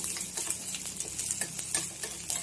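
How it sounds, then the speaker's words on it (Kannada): Raisins frying in a pan for rava kheer, a steady sizzle broken by repeated scrapes and stirs of a spoon, close and moderately loud with no talking. "ದ್ರಾಕ್ಷಿ ಹಾಕ್ತಾ ಇದ್ದೀನಿ. ಸ್ವಲ್ಪ ಫ್ರೈ ಮಾಡ್ಕೊಳ್ಳಿ"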